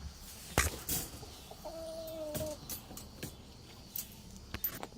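A rooster in an exercise pen gives a single short, drawn-out cluck in the middle, with scattered knocks and rustles around it and no talking.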